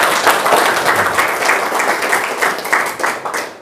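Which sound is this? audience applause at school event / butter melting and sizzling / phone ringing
audience applause at school event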